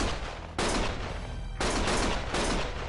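Dense, sustained bursts of gunfire from the video game Lost Judgment, loud and continuous with sharp surges at intervals, no speech.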